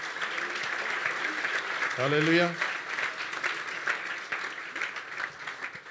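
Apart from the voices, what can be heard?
church congregation applauding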